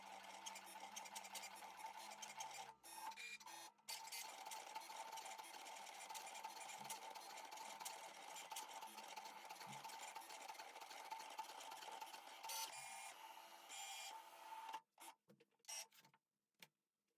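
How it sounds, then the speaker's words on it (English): A Cricut cutting machine cuts an Easter card design, a steady mechanical whir and buzz of the moving blade carriage running for most of the time, then stopping with a few brief clicks near the end. "You can now load your mat into the Cricut machine. Press the button and your machine will do the rest for you."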